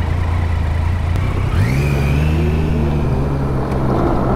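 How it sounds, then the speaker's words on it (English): A gas-powered Harley-Davidson motorcycle rolls up nearby, its engine note rising and settling into a steady mid-pitched drone, loud and close, with a faint whine beneath. "got a gas bike rolling up here"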